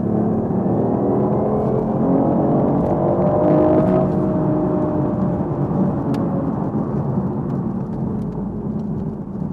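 BMW i8 hybrid sports car engine after a downshift to second, partly piped through cabin speakers, a continuous dense drone with faint rising tonal lines, loud and steady throughout.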